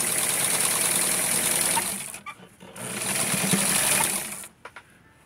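A sewing machine stitches the edge of a small doll shirt for an 8-inch doll, a loud steady whirring run that stops briefly, starts again, then ends in a few quiet clicks.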